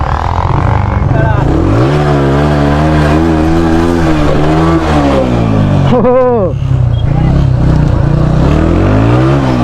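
Motorcycle engine revving hard during a freestyle wheelie stunt, a loud sustained roar with rising and falling pitch sweeps, close and dominant throughout.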